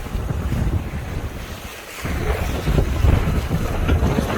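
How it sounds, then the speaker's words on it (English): Strong wind roars across the microphone aboard a sailboat in stormy seas, with waves surging and slapping around the hull in a steady, loud wash that swells slightly toward the end. "The wind's picking up."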